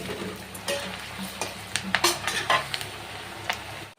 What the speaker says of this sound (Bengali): আর আমি প্রথমে আলুটা ভেজে নেব ভালো করে